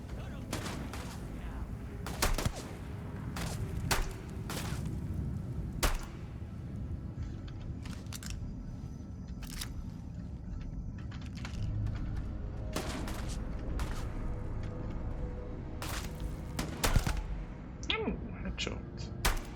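Long-range gunfire in a video game cracks out as scattered sharp shots, some in quick pairs, over a steady low rumble with a voice talking at times.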